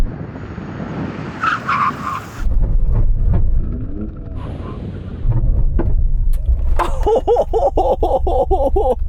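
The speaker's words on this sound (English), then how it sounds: "we're going to do a brake test from 70 miles an hour. When we hit the line, full emergency stoppage" A BMW M4, an Audi RS6 and an Alfa Romeo Stelvio braking hard from 70 mph, with rumbling engines and road roar, then a loud, wavering tyre squeal toward the end.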